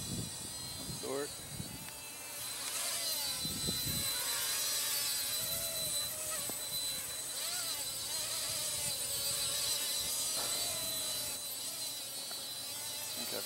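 A Blade Nano QX micro quadcopter drone flying outdoors gives a steady high-pitched buzzing whine of small rotors that holds throughout as it circles, with someone talking over it and wind in the background.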